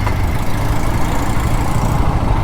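A Royal Enfield Guerrilla 450 motorcycle engine idling close by, a steady low rumbling throb that stays even and loud throughout with no talking.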